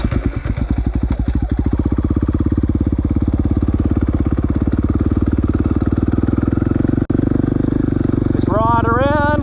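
A dirt bike engine runs loud and close, pulsing steadily as the rider changes up and down through the gears. A short dip near the end, then a rising whine as the engine revs.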